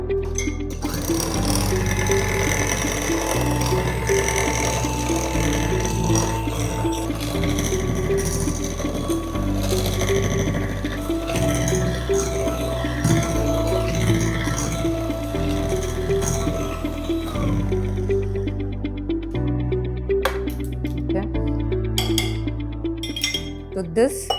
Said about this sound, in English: 2 egg whites and sugar. I'm going to whisk it together.